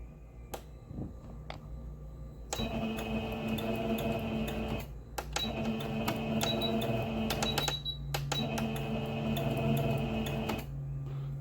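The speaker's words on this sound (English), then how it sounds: "So if you press it, you gotta take your foot off the pedal, it'll back stitch." A Singer Patchwork sewing machine runs in reverse for back stitching, giving three bursts of rapid mechanical whirring and ticking separated by short pauses with isolated clicks, all close and moderately loud.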